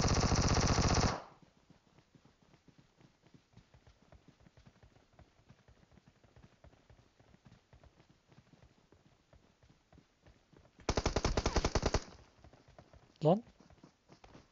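Bursts of Vector SMG fire in PUBG Metro, one long rapid volley at the start and another near the end, with quieter game ambience and footsteps between.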